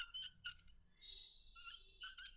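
A handheld derma roller squeaks from friction as it rolls. Faint, high-pitched chirps and squeals come in short repeated bursts, with one drawn-out squeal in the middle.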